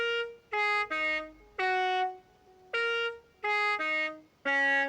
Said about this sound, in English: the Minecraft themed car horn, which sounds a bit like this